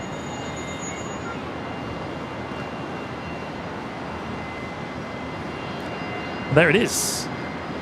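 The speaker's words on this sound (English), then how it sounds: "One of 7 Royal Australian Air Force KC-30s" A Royal Australian Air Force KC-30 jet at Brisbane International Airport makes a steady, broad engine roar from a distance, with a voice speaking briefly near the end.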